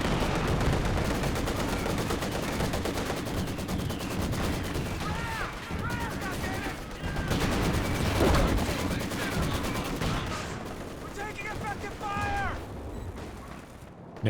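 Dense battlefield fire from Company of Heroes 2, with a walking Stuka rocket artillery barrage thudding and crackling in continuous rapid bursts amid gunfire, with whistling shells audible toward the end.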